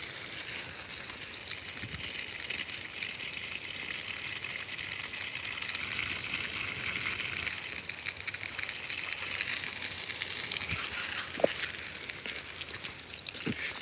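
Water gushing from a garden hose onto rare fruit trees such as jaboticaba and Barbados cherry, a constant, close, hissing rush of spray that stays steady throughout with a few faint knocks.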